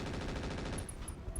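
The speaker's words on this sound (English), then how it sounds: "The Thumper is going to fire on the Vulcan." A Thumper artillery weapon in the RogueTech BattleTech game fires as a rapid, close, heavy burst of repeated booming blasts, thudding in quick succession for about a second.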